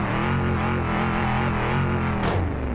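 A car engine revs hard and steadily in the BeamNG.drive driving game, an SUV being tested on a rocky road, a loud continuous drone with a brief higher surge near the end.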